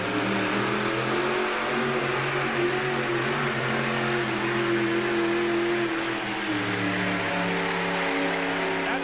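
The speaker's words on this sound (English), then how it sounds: "It's a real short wheelbase truck, and it's an older model." Mother Goose, a short-wheelbase older-model pulling truck driven by Eddie Anderson, roars at full power through a truck pull at a 1987 USHRA event in Tucson, a loud sustained engine drone with shifting revs and no talk.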